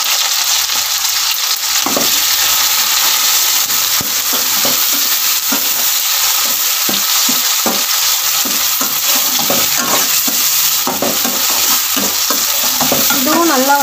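Onion, green chili and tomato sautéing in a pan: a loud, steady frying hiss with repeated scraping stirs and spatula knocks against the pan, close and with no speech.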